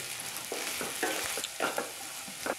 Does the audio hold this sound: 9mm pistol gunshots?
no